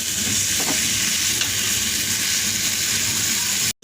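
Tomatoes sauté and sizzle steadily in a hot pan for arai keerai kadaiyal, a loud continuous frying hiss with faint stirring scrapes, cut off abruptly near the end.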